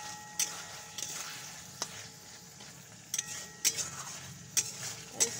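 Raw chickpeas for ghugni are stirred in a pan, with a faint sizzle under a series of sharp spoon clicks and scrapes against the metal, spaced irregularly and fairly close.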